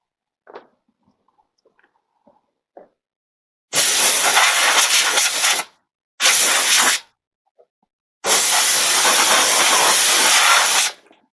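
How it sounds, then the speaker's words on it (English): Air compressor blowing air during maintenance on a John Deere E170 riding mower, three loud hissing blasts of varying length, with faint clicks and handling noise before them. "Now, I got a compressor here."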